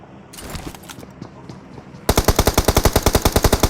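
Sustained automatic gunfire from the BGMI mobile battle royale game, a rapid loud burst of evenly spaced shots starting midway after quieter ambient game sounds, with no talk.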